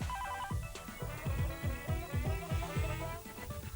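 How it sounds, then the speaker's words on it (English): A ringtone-style musical telephone ring with repeating electronic tones over a rhythmic backing, steady and moderately loud throughout with no talking. "Hold on a minute, I better get the phone."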